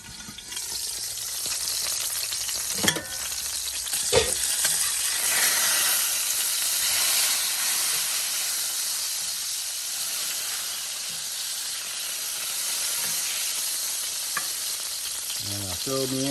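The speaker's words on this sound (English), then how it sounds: "And I filled me in a couple eggs. Ooh, popping a little bit." A couple of eggs frying under a lid in a hot pan, giving a steady close sizzle broken by a few sharp pops and spatters. No one speaks.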